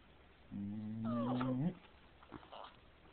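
A dog lets out a drawn-out, rising whimper up close, followed by a few faint softer whines.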